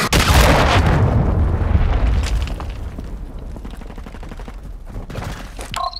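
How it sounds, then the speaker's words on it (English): A heavy in-game battle in Call of Duty: Modern Warfare II, with a loud explosion and rapid machine-gun fire at first, then sustained crackling gunfire and rumbling booms that fade slightly toward the end. "Friendly cruise missile deployed."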